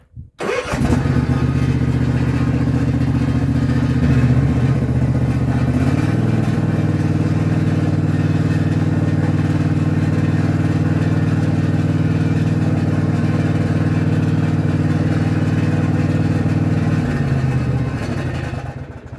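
A Husqvarna 254 ZeroTurn mower engine cranks and catches, then runs at a loud, steady, close idle for most of the stretch with a brief rise in pitch early on before tapering off at the end.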